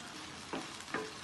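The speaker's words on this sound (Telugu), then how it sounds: "మనకు బాగా ఫ్రై అయిపోయింది కదా బెండకాయ." Okra (bhindi) frying in a pan, a brief soft sizzle with two quick stirring scrapes close by.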